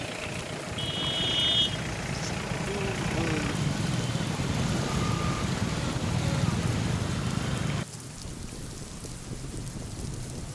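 Heavy rain falls in the Chakan industrial area near Pune as a steady, loud broadband hiss, dropping abruptly in level near the end, with faint beeps early on.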